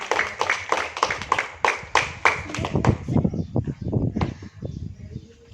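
Students in a physical education class clap their hands in a crisp burst of sharp, fairly rhythmic claps at the start. The clapping then thins out while a voice talks over and after it.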